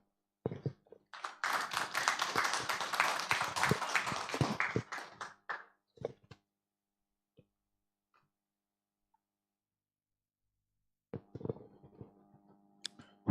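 An audience claps after a training talk, a burst of applause lasting about five seconds that thins into scattered claps and fades to silence, then resumes with a few taps and claps.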